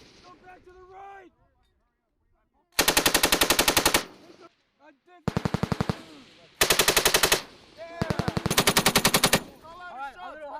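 US Marines fire a heavy machine gun at a live fire exercise in four loud, close bursts of rapid fire, separated by short pauses. Voices speak quietly in the gaps.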